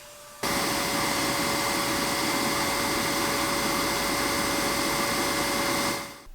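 A Shark CarpetXpert carpet cleaner motor kicks on abruptly and runs at a loud, steady whine with a constant pitched tone, then winds down at the very end; no one speaks.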